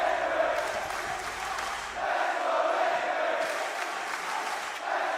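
Esports arena crowd at the Manchester Major, cheering in a broad steady roar that swells and surges, with a commentator talking over it.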